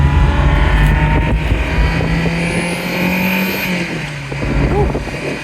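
A Ferrari Mondial Spyder's engine pulls on an open road, a steady drone rising slightly in pitch, with wind noise and a voice murmuring over it inside the car.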